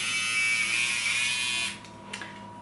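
A cheap electric beauty gadget gives a steady, bright buzz like a razor, running loud for a couple of seconds before cutting off, followed by faint clicks.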